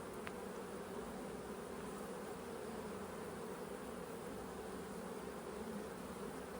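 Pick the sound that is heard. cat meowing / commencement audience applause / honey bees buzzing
honey bees buzzing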